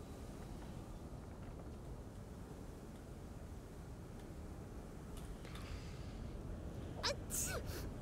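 A single sharp human sneeze bursts out near the end, close and fairly loud, over a steady low rumbling background that continues throughout.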